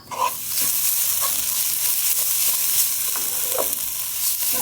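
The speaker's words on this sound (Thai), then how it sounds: "เร่งไฟนิดนึง เดี๋ยวเราผัดพริกไทยหอมก่อนนะคะ" Homemade chili curry paste for chu chee crispy chicken stir-fried in a pan over raised heat: a steady, close sizzle with a few light spatula scrapes and taps.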